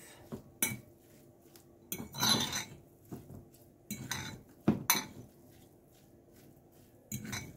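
Minced meat for mini burgers with reconstituted steak is mixed in a bowl. Scattered, irregular clinks and scrapes of a utensil against the dish come close and clear, with quiet gaps between them.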